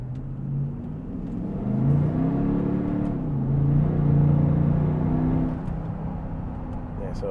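Audi Q7 with a 4.2 TDI V8 diesel fitted with V12 turbos, pulling hard under manual shifting: a deep, steady engine drone heard from inside the cabin, rising in pitch as revs climb, then dropping and climbing again through a gear change.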